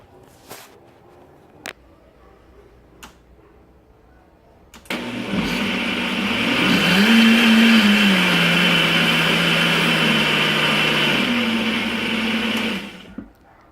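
A blender whirs for several seconds mixing cake batter to fold in baking powder, starting with a few faint knocks, then a loud steady motor drone that rises in pitch before shutting off.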